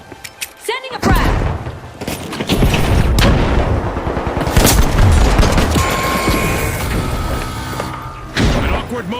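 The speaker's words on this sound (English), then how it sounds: "Frag grenade out! Sending a frag!" Frag grenade thrown and bursting amid heavy gunfire in an online shooter game, a loud dense clatter of shots and explosions running nearly the whole time after a quiet start, with a fresh burst near the end and voices mixed in.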